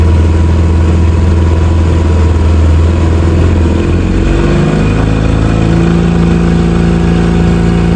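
A boat's engine runs steadily in gear on a newly bought used boat, loud and close, with its pitch shifting and rising partway through as the engine note changes, no talking.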